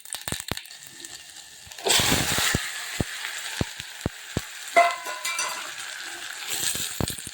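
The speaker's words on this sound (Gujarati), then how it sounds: "તો મરચાં વઘાર નાખ્યા." Green chillies dropped into hot oil for a Gujarati tempering, setting off a sudden loud sizzle and crackle that keeps spitting and popping, with sharp clicks of a utensil against the pan.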